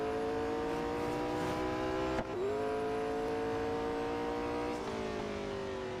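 Race car engine in the Real Racing 3 mobile game drones at high revs on the Nürburgring, steady and loud with two brief gear-shift dips, no talking over it.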